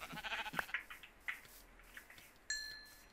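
Sheep in the Minecraft video game bleat several times in quick game-audio calls, with a few short clinks and a brief tonal chime near the end, fairly quiet and with no talking.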